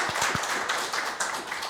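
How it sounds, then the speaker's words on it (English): An audience at a talk on Jews and Palestinians breaks into scattered applause, a few sharp claps at first, then a softer, steady patter of hands from a room of people. "take 1 second to give a little applause for"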